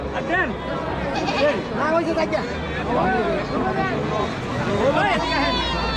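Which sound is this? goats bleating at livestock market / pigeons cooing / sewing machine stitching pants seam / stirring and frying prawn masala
goats bleating at livestock market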